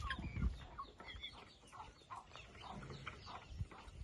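Country hens cluck softly and sporadically while eating grain in their clean coop, short quiet calls scattered over faint low background rustling.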